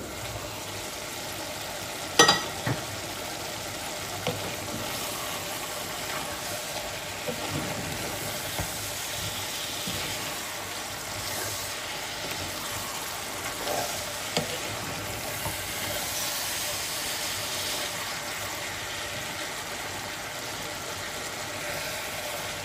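Cabbage with Goan pork sausages sizzles steadily in a covered pan, an even, continuous frying hiss with a few small clinks, no voices.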